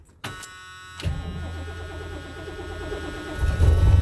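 Cold Ford engines crank on a 20-degree day, a steady mechanical starter whir that begins after a brief click and keeps churning, swelling louder near the end as an engine seems to catch.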